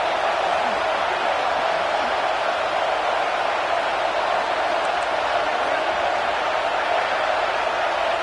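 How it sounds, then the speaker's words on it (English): Stadium crowd at a Clemson football game roaring steadily behind the defense in the red zone, a broad continuous wall of distant cheering noise that holds at an even level throughout. "The crowd getting behind this defense as they try to get a stop in the red zone."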